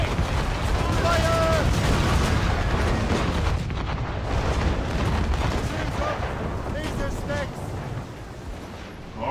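Ship cannon fire in Assassin's Creed Rogue, heard during a naval battle at sea as a dense, continuous roar of booming blasts and rumble with shouting voices mixed in.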